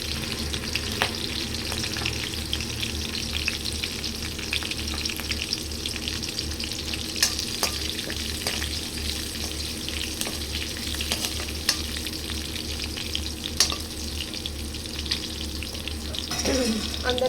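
Cashews fry in hot oil in a pan, giving a steady, dense sizzle with scattered scraping clicks from stirring throughout.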